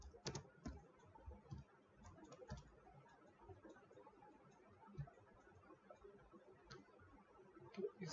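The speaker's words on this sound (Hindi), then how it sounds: "इसके अंदर हम टाइप करेंगे" Quiet typing on a computer keyboard: soft, irregular key clicks in short bursts at close range, fairly faint and with no talk over them.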